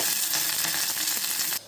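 Onion and curry leaves sizzle hard in hot oil as a tempering for dantu soppu saaru, a dense steady crackle with small stirring clicks, close and loud, cutting off sharply near the end.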